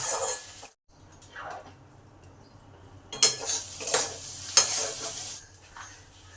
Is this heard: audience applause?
no